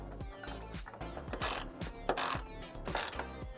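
A hand ratchet tightens the original bolt on a Toyota Grand Highlander hood strut, giving a close, fast series of crisp mechanical clicks in short uneven bursts.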